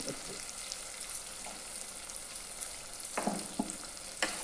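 Crushed garlic sizzles and fries in a pan, a soft steady crackle with occasional louder stirring scrapes and spits, close by and without speech.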